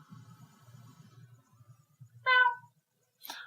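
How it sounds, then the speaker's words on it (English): A cat meows in two short, clear calls near the end of the clip, loud and close, following a stretch of low muffled background rumble. "by a terrifying cat."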